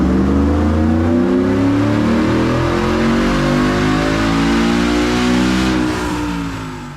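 A Ford F150 with a 5.0L Coyote V8 and aftermarket cams is run at wide-open throttle on a dyno, its engine note climbing in one loud, continuous pull before easing off at the end.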